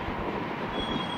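Rumbling roller coaster train ride in the VR horror game Rush of Blood, a steady rail-borne roar with faint wheel squeal, continuous and fairly close across the short stretch.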